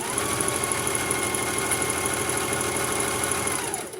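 A sewing machine stitches a pocket onto a Halloween garment, running as a steady, continuous motor hum with a fast, even mechanical rhythm throughout, close and fairly loud with no talk.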